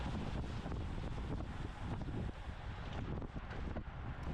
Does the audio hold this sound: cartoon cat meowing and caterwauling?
no